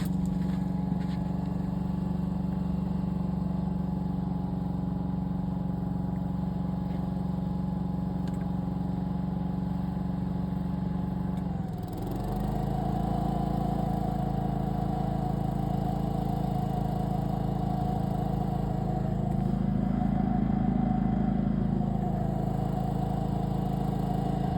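A Duramax portable generator runs under a 1500-watt load, its engine droning loud and steady nearby; midway the pitch dips briefly and then settles into a heavier, slightly rougher hum.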